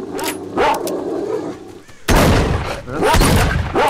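Gunfire at dogs in the video game S.T.A.L.K.E.R. Shadow of Chernobyl, several sharp loud shots in quick bursts, close and booming, with game ambience and brief voices between them.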